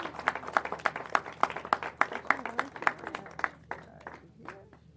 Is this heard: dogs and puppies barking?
no